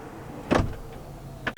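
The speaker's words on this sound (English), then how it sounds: "I really don't want to reach over and close the door." Powered rear door of a 2021 Range Rover SV Autobiography closing by itself: a short motorized whir ending in a soft, solid latch thud, with a second faint click just after, heard up close inside the cabin.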